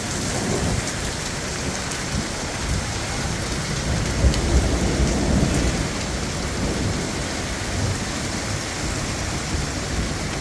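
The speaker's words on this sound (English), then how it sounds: "non-stop thunder, lightning, hail." A heavy thunderstorm with hail over Denver, with dense, roaring rain pounding surfaces and continuous low rumbling thunder, loud and steady throughout.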